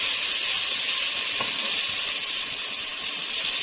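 Chopped onion frying in a pan, a steady close sizzle and hiss running throughout without a break.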